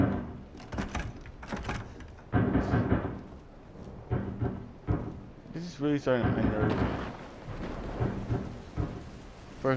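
Deep rumbling thunder rolls over steady rain in the video game Resident Evil 7, with a sharp crack partway through, while a player's voice talks over it.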